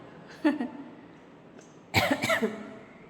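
Two coughs from a person with a lingering cough, the first short and soft, the second a louder double burst about a second and a half later, close to the listener.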